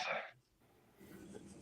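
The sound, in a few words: sneeze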